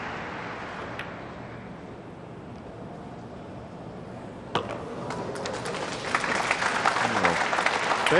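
Crowd applause breaks out after a pool shot at the 2004 World Pool Championship match, a steady clapping wash that swells louder toward the end.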